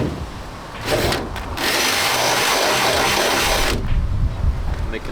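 Power drill enlarging holes in a Mercedes Sprinter van's side door panel so a jigsaw blade can pass through, a steady high whine running about three seconds after a brief start, close and loud.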